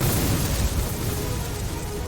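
Cannon fire between pirate ships in a naval battle near a shore, heard as a dense, continuous rumbling roar of booms, heavy and sustained without clear gaps.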